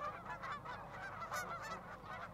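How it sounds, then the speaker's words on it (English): Geese honk continuously in a feedlot between Hillspring and Glenwood, many overlapping calls forming a busy, moderately distant racket with no pause. "They were honking up a pretty good racket in this feedlot between Hillspring and Glenwood."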